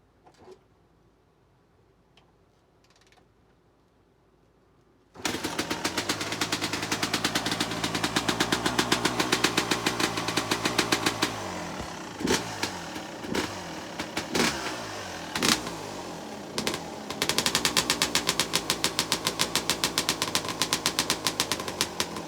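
A Suzuki RM250 two-stroke motorcycle kicked over from cold with the choke on: a faint kick, then the engine catches abruptly and runs loud and close, with sharp rapid popping and blips of throttle.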